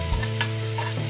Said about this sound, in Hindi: जब तक हल्की सी सुनहरी ना हो जाए प्याज तब तक भुनेंगे।